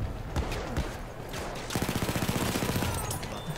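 Automatico submachine gun firing in the Battlefield 1 multiplayer game, a long rapid automatic burst of dense, evenly spaced shots following scattered distant gunfire, loud and close with battlefield noise behind.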